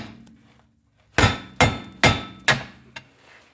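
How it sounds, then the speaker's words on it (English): A hammer and pry bar strike a seized rear driveshaft on a BMW E46 3 Series at the differential: four sharp, loud metallic blows at a steady pace, then a fainter fifth hit, with quiet before them. "I'm going to smack this thing with a hammer, my pry bar"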